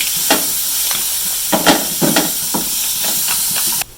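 Rice boiling in a pot for drumstick-leaf biryani as carrots and beans are added, a close steady hiss of steam broken by several short bubbling bursts and stirring splashes.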